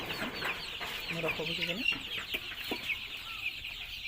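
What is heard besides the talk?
chickens clucking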